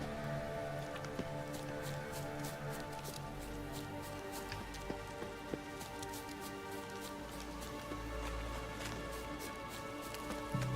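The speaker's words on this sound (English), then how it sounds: "Looks like rain." Rain falls in The Witcher 3 as a steady, soft patter of drops on surfaces, with scattered sharper taps over a low continuous wash and faint ambient tones beneath.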